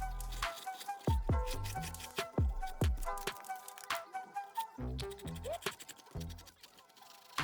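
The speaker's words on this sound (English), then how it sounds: "cleaned the surface really well with some alcohol and a Scotch-Brite pad" A Scotch-Brite pad scrubs a tire surface wetted with alcohol: close, repeated scratchy strokes in uneven bursts with short pauses between them, no talking.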